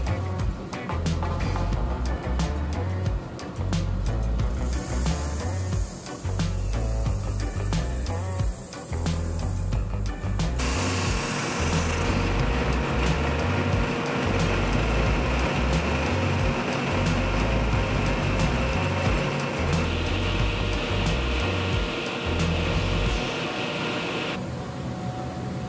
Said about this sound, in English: this through the drum sander, and what it'll do is it'll make it completely flat